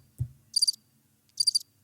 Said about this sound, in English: It's like crickets.